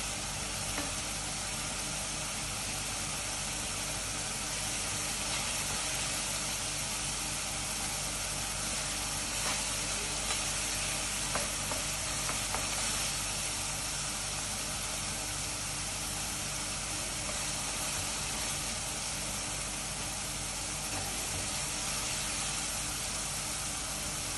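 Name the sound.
onions sautéing in a pan for chicken curry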